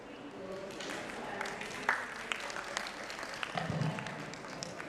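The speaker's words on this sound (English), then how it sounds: "A bigger round of applause, please" An audience at a medical aesthetics conference applauds after a talk on mesotherapy and microneedling, a moderate, continuous patter of clapping with a few sharper claps standing out and some crowd murmur beneath.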